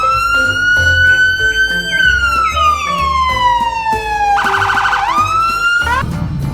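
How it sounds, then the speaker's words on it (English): A toy police car plays a loud, close electronic siren that sweeps slowly down in pitch, switches to a fast warbling yelp, then rises again, with faint background clatter. "Wow, this is police car,"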